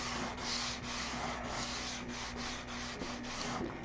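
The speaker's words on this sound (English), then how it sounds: "But you keep sanding until the noise goes away." Hand sanding of a wooden surface, a steady rhythmic scratchy rubbing made of repeated back-and-forth strokes, close and fairly loud with no voices.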